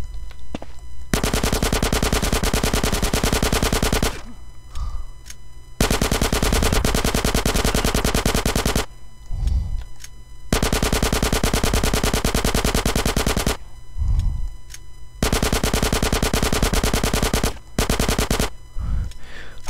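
Automatic gunfire at a video game firing range, four long sustained bursts of rapid machine-gun fire, loud and close, separated by short pauses with a few thuds between bursts.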